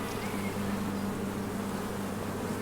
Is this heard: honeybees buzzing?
yes